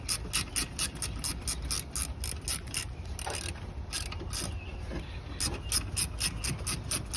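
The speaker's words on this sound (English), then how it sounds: "we're gonna go ahead and tighten up these two bolts, the main bolts that are holding it in" A ratchet tightens the main alternator mounting bolts on a 2005 Volkswagen Beetle 2.0. Loud, close, rapid clicking runs in steady back-and-forth bursts for the whole stretch, briefly pausing in the middle, with no speech.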